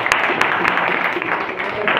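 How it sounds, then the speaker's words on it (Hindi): An audience at a motivational speech applauds, with a dense wash of clapping holding steady for the whole moment, moderately loud with a few sharper individual claps standing out. "एक बार जोरदार ताली"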